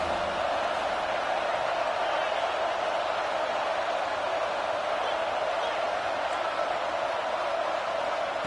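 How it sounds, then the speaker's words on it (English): A Buckeye football stadium crowd roars on third down, a steady, loud wash of cheering that fills the space without letup. "The Buckeye crowd alive on third down."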